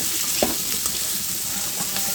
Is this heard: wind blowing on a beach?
no